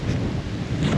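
Strong wind gusts steadily across the microphone beside a fast, raging river during a carp fishing trip, a loud continuous rumble with no voices.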